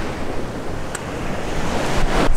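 Atlantic Ocean surf rolling onto Miami Beach, a steady broadband wash of breaking waves with wind buffeting the microphone, swelling slightly louder toward the end, no voices.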